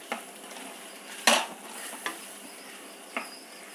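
Taro pieces mashed and broken up with a spatula in a pan, heard as a few separate scraping knocks of metal on the pan, one sharper and louder than the rest, over a faint steady hiss.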